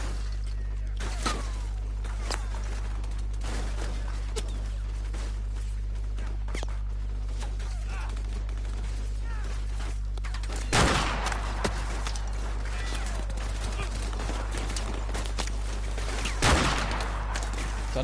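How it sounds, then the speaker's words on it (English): Gunfire in the Call of Duty 4: Modern Warfare campaign, a graveyard firefight with scattered shots throughout and two loud nearby bursts standing out over a steady low background hum. "Where are those shots coming from?"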